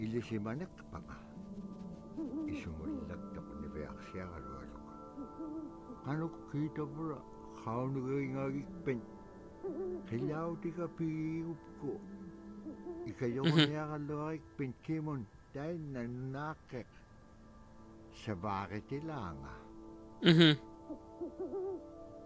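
An owl hoots in a video game, with soft, repeated hoots mixed in among a person talking that carries through most of the stretch.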